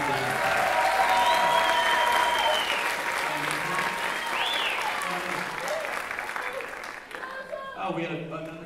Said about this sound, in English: please give them a giant round of applause